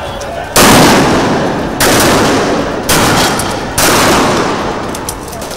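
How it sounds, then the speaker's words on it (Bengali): Gunfire rings out during protests in Bangladesh, with four loud, close bursts of sharp cracks, each fading into echoing noise before the next. "হেলিকপ্টার থেকে ছোড়া হয় গুলি, রাতে জারি হয় কারফিউ।"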